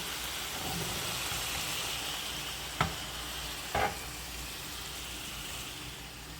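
Chicken pieces fry in oil in a pan with a steady close sizzle, broken by two short sharp spatters.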